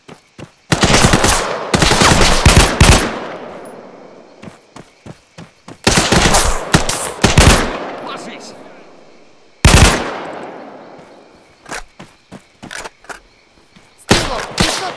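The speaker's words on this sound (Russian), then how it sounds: "В меня стреляют" Loud bursts of automatic gunfire on a battlefield, several long rattling volleys separated by gaps, each trailing off in an echoing decay, with a few scattered single shots between.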